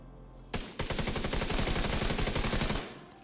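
Capacitor weapon firing in The Division 2 video game, a fast burst of rapid automatic shots after two single opening reports, loud and close, with no talking.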